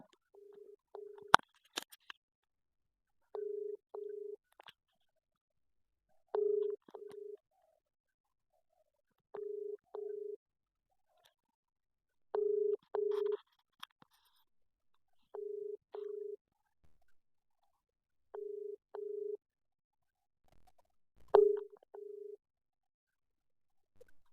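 An unanswered telephone call to a private school repeats a ringback tone in regular double pulses, about two short beeps every three seconds, faint and clear over near silence, with a few soft clicks in between.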